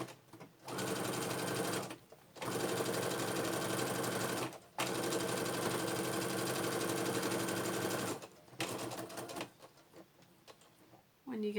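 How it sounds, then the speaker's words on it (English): A sewing machine stitches rucksack fabric in loud, steady runs of rapid rhythmic whirring, broken by short pauses and a few quieter, uneven bursts near the end. "put your foot down and start stitching"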